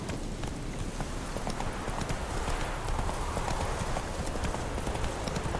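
Hooves of a horse in The Witcher 3 gallop in a rapid, continuous clip-clop rhythm, steady and close throughout with no talk.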